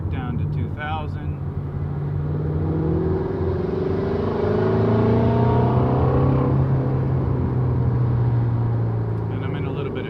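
A Ford Mustang GT350 with a newly installed engine accelerates smoothly in second gear, rising from low revs to a steadily climbing engine drone heard from inside the car, then easing back, with a voice briefly at the start.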